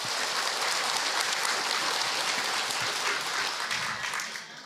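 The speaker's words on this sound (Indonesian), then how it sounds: "Tepuk tangan buat Bunda kalau begitu." Audience applause at a religious lecture, a steady wash of many hands clapping at moderate volume throughout, fading slightly at the end, with no speech over it.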